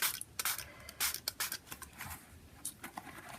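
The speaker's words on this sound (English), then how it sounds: "I shall spray it in this area here and then get that to drip" Quiet, close spritzes of electric blue spray ink hit an art journal page in a string of short, irregular bursts with soft hiss between.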